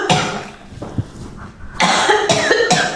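Several harsh coughs from a person nearby, a burst early on, then a louder, repeated coughing fit after a short pause.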